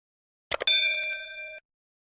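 A notification bell sound effect: a quick metallic double tap, then one bright sustained ding that rings clearly for about a second before cutting off.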